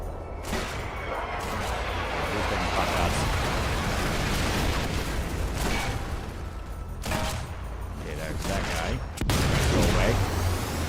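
Gunfire from the Sniper Elite 4 video game, a dense, loud barrage of rattling shots and battle noise running without a break, with a heavier burst near the end.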